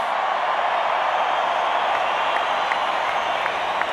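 Stadium crowd at a State of Origin rugby match, a dense, sustained roar of cheering and applause from thousands of fans, steady and loud throughout.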